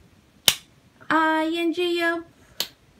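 Two sharp hand claps replace a sung letter in the Bingo children's song, one clap before and one after a sung phrase, close and crisp.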